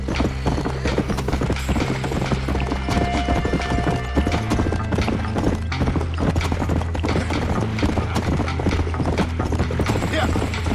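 Rapid galloping horse hooves in Red Dead Redemption thud steadily over busy game sound effects and background noise, dense and continuous throughout.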